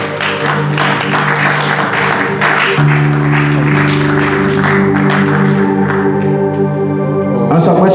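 A church congregation applauding and acclaiming the Lord, steady dense clapping and cheering filling the whole stretch over sustained organ or music tones, loud and continuous.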